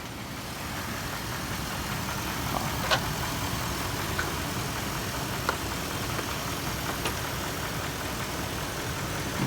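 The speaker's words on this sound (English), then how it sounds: "I'll show everyone that the engine is still running" A 2007 Dodge Durango's 4.7-litre engine runs at a steady idle under the open hood, a close, even mechanical hum with a few faint ticks and no speech.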